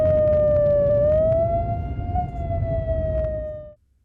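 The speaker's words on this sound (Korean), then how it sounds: "거리에 사이렌이 울립니다." A blasting warning siren wails steadily on a city street ahead of a charge detonation at an urban construction site, one long sustained tone rising slightly in pitch over rumbling traffic before cutting off abruptly.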